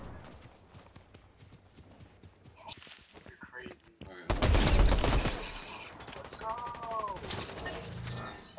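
Gunfire in the Fortnite video game: a rapid clatter of small shots followed by a loud burst of heavy fire and scattered cracks, with players talking excitedly over it.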